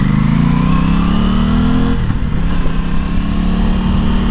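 A 2021 Aprilia Tuono 660 motorcycle engine drones loud and near, its pitch climbing under load before dropping briefly at a gear change and rising again, with wind rush and no speech.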